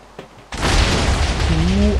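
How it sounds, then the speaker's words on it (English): A digger grenade goes off in the HBM Nuclear Tech Mod game, a sudden loud boom after a brief click, then a sustained rumbling roar of breaking debris with a rising whistle-like tone near the end. "Digger grenade."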